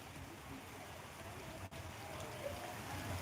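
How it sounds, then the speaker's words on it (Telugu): Heavy rain pours over Velichala village, a steady, faint hiss of falling water with wind moving through the trees and no voices. "ఫ్రెండ్స్ కొంచెం వర్షం ఎక్కువైంది భారీ వర్షం అనుకుంటున్నా"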